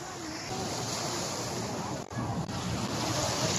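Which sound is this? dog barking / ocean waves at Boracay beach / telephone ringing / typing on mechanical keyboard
ocean waves at Boracay beach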